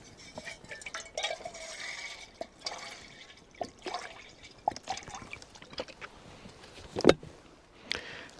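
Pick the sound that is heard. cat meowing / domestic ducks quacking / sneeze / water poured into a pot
water poured into a pot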